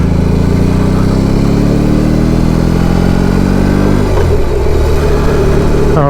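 A BMW R18 B bagger motorcycle rides through urban traffic in a 60 zone. Its engine drones loudly and continuously, with the rumble rising in pitch as it accelerates, then shifting down partway through.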